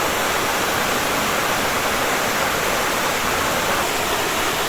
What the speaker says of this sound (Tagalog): Ayan yung yung falls.